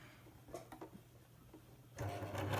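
A sewing machine stitches through the folds of a homemade AFNOR-style fabric face mask with a filter, its motor humming quietly and unevenly before running louder and steadier near the end.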